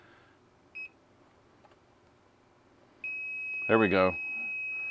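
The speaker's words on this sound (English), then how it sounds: "it's beeping because I am in the presence of voltage" A Klein Tools voltage tester gives a short electronic beep, then a sustained high-pitched tone on detecting voltage, sounding while a person briefly speaks over it.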